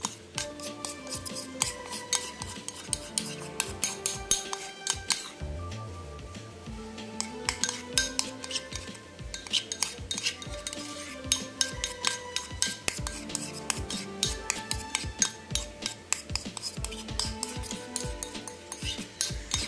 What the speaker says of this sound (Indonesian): Setelah itu diaduk-aduk diaduk-aduk sampai betul-betul tercampur dengan rata.